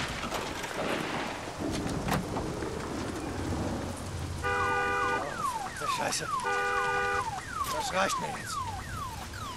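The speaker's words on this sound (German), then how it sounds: "Oh, hier ist Alarmanlage." A car alarm in the video game Days Gone whoops and warbles in repeating cycles over rainy, noisy ambience, with someone speaking German briefly.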